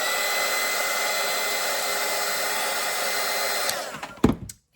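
A hair dryer blowing steadily up close to dry paint on a wreath painting, a loud continuous whoosh that cuts off near the end with a brief clunk.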